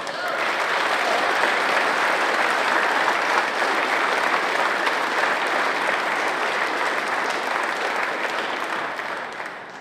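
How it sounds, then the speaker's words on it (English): A full house claps after an adult softball handball final, giving nearly ten seconds of dense, sustained, loud applause that fades slightly at the end. "So a big round of applause."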